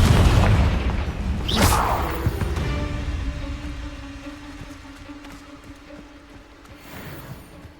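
Confringo spell explosion in the Hogwarts Legacy video game, a heavy low booming blast at the start that rumbles and fades over several seconds, with a faint tonal hum and a smaller burst near the end.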